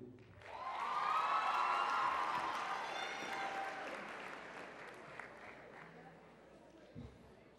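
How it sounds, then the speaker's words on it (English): An audience at a high school talent-style show applauds and cheers, the clapping swelling quickly, peaking in a warm burst of whoops, then tapering off gradually into a quiet room. "please give a big round of applause for Madhu"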